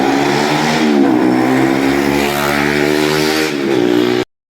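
Young riders doing stunts on motorcycles in rainy weather rev their engines loudly and close by. The engine sound holds a steady droning pitch for about four seconds, then cuts off abruptly.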